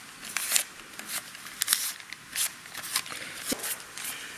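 Tarlatan cloth balled up and dragged across an inked copper etching plate, giving a series of dry, crisp scraping swishes in uneven strokes, faint and close.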